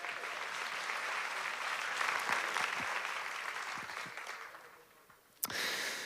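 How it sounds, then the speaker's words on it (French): An audience at a fantastic-film festival closing ceremony in Gérardmer claps warmly. The applause swells, then fades toward the end, and a sharp click or bump interrupts just before it resumes. "Merci Philippe Rouillet, vous pouvez également l'applaudir."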